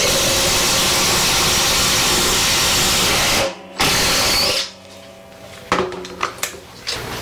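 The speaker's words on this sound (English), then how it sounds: "We're gonna do some simple drilling with this." A loud, steady whine from a Makita XDT14 18V brushless impact driver drilling a hole runs for several seconds, stops briefly, then resumes before giving way to a few clicks and knocks.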